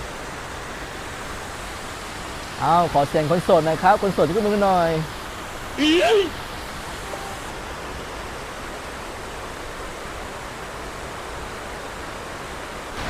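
Steady rushing water like a waterfall fills the background throughout, with someone speaking briefly over it.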